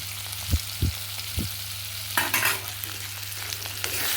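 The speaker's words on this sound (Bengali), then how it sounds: "এই কাঁচা লঙ্কা বাটাটা এর মধ্যে দিয়ে দিলাম" Chicken with green chili and coriander paste fries in a village kitchen, a steady close sizzle broken by several stirring knocks and a louder burst of spattering midway, with no talk.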